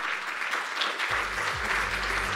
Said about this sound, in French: il est au premier rang, on peut l'applaudir